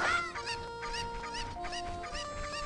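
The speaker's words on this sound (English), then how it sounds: "Stupid chicken. That's an important chicken." A chicken clucks in the video game Legend of Zelda Ocarina of Time, rapid repeated squawky clucks over a steady background game tone, moderately loud with no talk.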